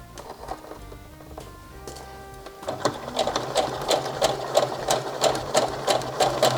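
A sewing machine stitches the side seam of boxy shorts, starting with quiet handling and a soft tone, then running steadily in a close, rapid rhythmic chatter of needle strokes.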